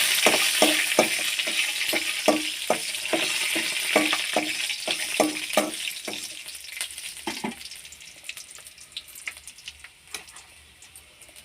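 Dried red chilies fry in a pan for sorghum-flour upma with a soft sizzle, while a spoon taps and scrapes in quick, repeated strokes that thin out and fade over the last few seconds.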